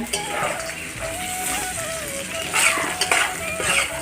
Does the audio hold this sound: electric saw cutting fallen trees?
no